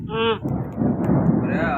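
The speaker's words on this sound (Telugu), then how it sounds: "ఉరుములు అయితే వస్తున్నాయి కదా" Thunder rolls during a rainy day near farm fields, a low, loud rumble filling the short stretch between brief tonal voice-like sounds at the start and end.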